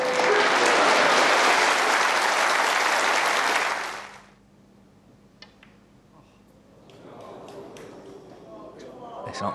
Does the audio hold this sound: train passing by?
no